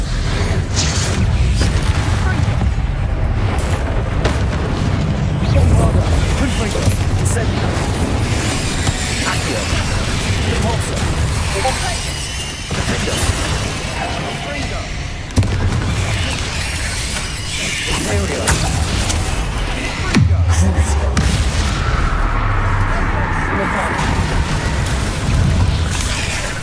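Repeated Bombarda spell blasts from the Hogwarts Legacy video game, heavy booming detonations with crackling debris, dense and loud throughout amid other spell effects, a voice occasionally calling out spell names.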